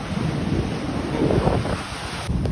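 Ocean surf at the seashore washes in as a soft, continuous rushing wash mixed with wind buffeting, fairly faint and steady with a slight swell near the middle.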